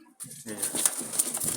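Running Jalali pigeons coo and shuffle about close by, a short soft burst of bird sounds with light movement after a brief quiet start.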